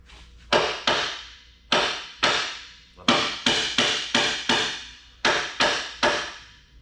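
A hammer strikes a GMT400 Suburban frame or 14-bolt axle repeatedly, about a dozen loud ringing blows in uneven clusters, each hit decaying briefly before the next.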